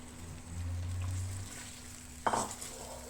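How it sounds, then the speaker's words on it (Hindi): Chicken is stirred and fried in a pan at low volume: a faint steady sizzle under a low hum, broken by one short spatula scrape near the end. "अब हम चिकन को अच्छे तरीके से भून लेंगे।"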